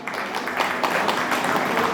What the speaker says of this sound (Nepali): कृपया उहाँको सम्मानको लागि जोरदार ताली